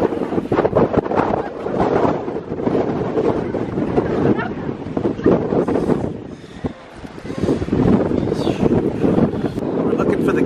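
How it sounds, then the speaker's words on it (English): Strong cold wind on a seaside boardwalk roars and buffets the microphone continuously, loud and close, with people talking faintly under the gusts. "It is cold and it is windy."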